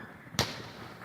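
A single sharp firework bang from a small backyard show cracks out near the start, followed by a brief fading rumble over faint background noise.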